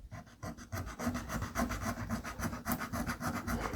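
Steady back-and-forth rasping of a file flattening the steering wheel of a diecast model car, a close, continuous scraping with regular strokes.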